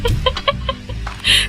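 Chickens in the video game Slime Rancher give a quick run of close, clear clucks in about a second and a half, ending in a higher squawk.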